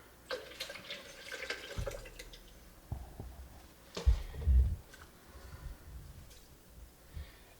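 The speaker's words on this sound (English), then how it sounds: "I'm adding a very small amount of filtered water here." Filtered water splashes and trickles into a blender in short, uneven bursts, close and fairly quiet, with a few clinks and knocks.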